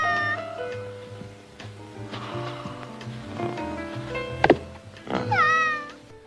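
A cat meows several times up close, drawn-out and wavering, with a few soft thumps and clicks between the calls.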